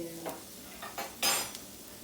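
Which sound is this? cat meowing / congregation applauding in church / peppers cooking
peppers cooking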